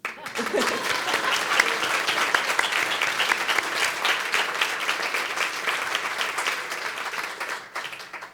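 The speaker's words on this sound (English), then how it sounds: "Applause." Audience at a Pipe Night honoring Jane Curtin applauds in a steady, dense roar of clapping that fills the room for about eight seconds, then tapers off near the end; no talk rises above it.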